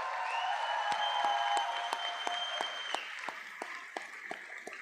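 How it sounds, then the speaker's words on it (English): A round of applause at an EMS awards ceremony, steady clapping from an audience with sharp individual claps standing out, a sustained tone running beneath it for the first few seconds. "If we could just give him a big round of applause of appreciation and support."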